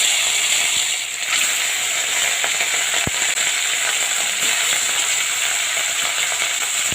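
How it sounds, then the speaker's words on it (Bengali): Khoira fish fry in hot oil in a wok, a steady loud hiss and crackle of sizzling throughout, with a few sharp pops and light scraping clicks. "এখানে মাছগুলো ভাজার জন্য কড়াই চাপিয়ে দিয়েছি, কড়াই গরম হয়ে গেছে, তেলও দিয়ে দিয়েছি"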